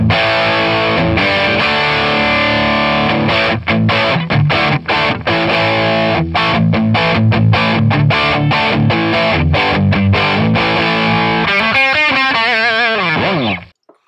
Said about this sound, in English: now let's throw a tube screamer in front of it.